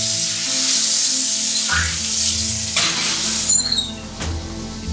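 A pigeon sears in a hot pan in the restaurant kitchen, giving a loud, steady sizzle with a few soft clinks and scrapes near the end.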